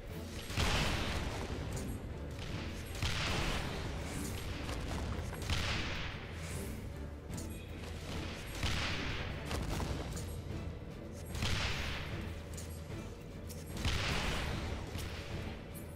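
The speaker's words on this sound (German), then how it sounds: "Aber die Kanone explodiert anscheinend ja auch." Cannons explode in a Final Fantasy 14 boss battle, a string of heavy booming blasts every two to three seconds over a dense, constant layer of game music and battle noise.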